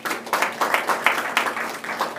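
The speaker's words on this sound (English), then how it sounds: "Give him a round of applause." A small room of people at a school board of education meeting gives a brief, moderate round of applause for a board member, with a faint voice underneath.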